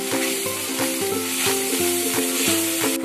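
Cumin and turmeric powder fry in hot oil in a pan, giving a loud, continuous sizzle broken by regular stirring scrapes about twice a second, close up.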